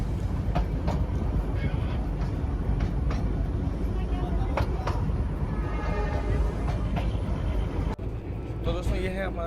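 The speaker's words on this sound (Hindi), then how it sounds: "फाइनली इस ट्रेन को शुरू कर दिया गया है।" A Darjeeling Himalayan Railway toy train runs on its first trip after the COVID closure, its steady rumble and rattling carriages loud and continuous, with people talking nearby and a brief shift in the noise near the end.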